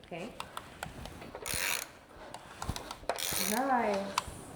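Ratchet turning over a rebuilt Range Rover V8 engine by hand, with the camshafts and flywheel fitted, giving quick mechanical clicks and a longer rotation sweep close by, with a few brief voices around it.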